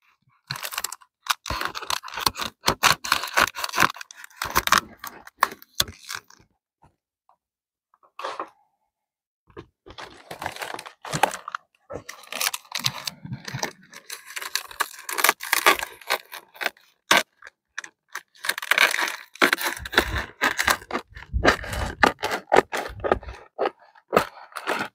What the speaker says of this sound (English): Okay, and here we go with the scissors.